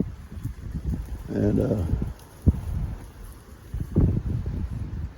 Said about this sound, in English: The wind's blowing a little bit hard today.